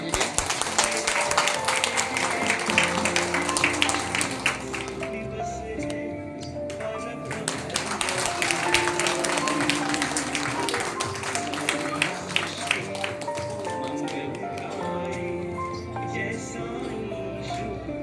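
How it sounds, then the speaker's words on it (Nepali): An audience claps together at a birthday celebration held at a temple, a dense patter of many hands that pauses briefly and then resumes, with a voice talking over it. "जोडले तपाईँहरूले एकपल्ट ताली चाहिँ मारिदिनुहोस्"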